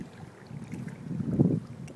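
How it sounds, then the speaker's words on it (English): A seaplane taxis on a lake after landing, heard as a faint, distant low droning hum that swells briefly, much like a far-off motorboat, with no talking. "that plane just landed"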